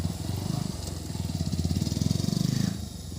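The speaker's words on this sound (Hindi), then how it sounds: "अभी पॉल का न्यू बाइक का आरपीएम साउंड सुनो।" New motorcycle engine revving close by, a rough pulsing drone that rises and falls over a few seconds with no talking.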